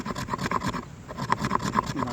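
Fatwood being scraped along a corner edge, producing repeated short raspy scrapes in a quick uneven rhythm, close and moderately loud with no voices.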